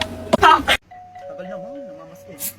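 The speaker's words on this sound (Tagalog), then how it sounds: "Ba't doorbell ka ng doorbell?" A doorbell chimes clearly after a brief burst of speech, its tone ringing out steadily before fading, with a faint hiss at the end.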